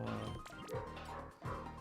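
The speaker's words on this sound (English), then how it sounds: "Ah god, he's barking so much" A dog barks repeatedly and loudly close by, sharp yelping barks in quick succession with a brief whimpering whine between bursts, no talking over it.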